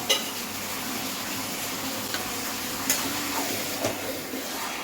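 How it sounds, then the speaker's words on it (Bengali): Chicken fries in mustard oil in a pan, giving a steady, soft sizzle with a few faint clinks of a utensil scattered through it. "এটা তেল ওঠা ওঠা ভাজা ভাজা মতো রান্না হবে"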